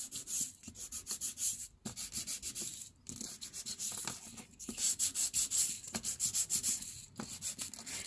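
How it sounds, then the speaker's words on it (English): Quick repeated back-and-forth scratchy strokes of a nail file sanding laser-printed cardstock edges, close and fairly soft, in rhythmic bursts with short pauses. "I'm gonna sand a little bit the print here on the edges"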